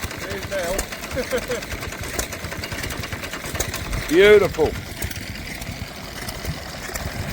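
A small vintage stationary engine idles at the Woolpit Rally, a steady low rhythmic chugging close by, with someone talking over it and a brief tonal whine partway through.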